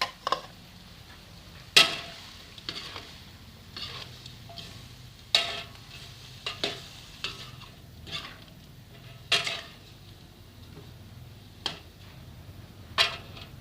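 Tomatoes are stirred into frying sweet and sour shrimp in a pan, with a series of sharp spatula scrapes and clacks at irregular intervals over a faint, low sizzle, close by and without speech.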